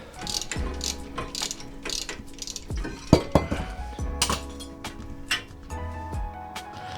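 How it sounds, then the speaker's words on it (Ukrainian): Caliper bracket bolts on a Citroen C8 (Peugeot 807) being undone during a front wheel bearing job, using a 19 mm socket, breaker bar and extension pipe. Close ratcheting clicks come in bursts, with metallic clinks and knocks between them. "за допомогою головки на 19, воротка та продовжуючої трубки відкручуємо два гвинти кріплення скоби"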